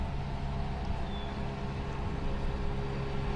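Returning boat motor heard from a seaside dike, a steady low droning engine hum with a faint tonal whine, continuous and moderately close, without speech.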